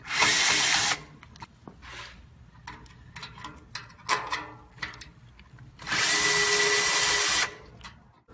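Two loud bursts of a power drill whirring while unscrewing parts to replace a Remington Solar fan motor, about a second at the start and a longer run near the end, with clanks and handling noises between.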